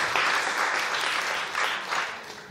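Audience at an Aboriginal culture and heritage celebration applauding city councilor Ross Eady, a continuous crowd of many hands clapping in a steady wash with slight swells, no talking over it.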